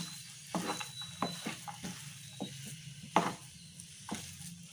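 Egg and chana dal halwa being stirred in a pan with the flame turned off: a handful of soft, scattered scraping strokes, quiet and close, with no talking.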